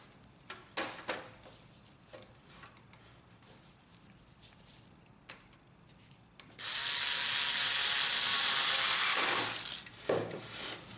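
Screws driven into a Brother DR421 printer drum unit, scattered plastic clicks and taps of parts being fitted, then a loud, steady electric screwdriver whir for about three seconds, followed by a few more close clicks.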